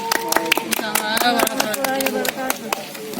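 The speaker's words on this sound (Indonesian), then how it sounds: "Sekali lagi kita beri tepuk tangannya" An audience applauds at a Heroes' Day commemoration at the Radio Rimba Raya monument, with close, brisk clapping and sharp hand slaps running throughout, mixed with a musical tone and voices.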